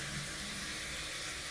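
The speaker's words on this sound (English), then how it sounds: "We'll see this water start to flow through any second now." Water rushes steadily through a blocked drain being cleared, a continuous hiss and gurgle at moderate level with no pauses or voices.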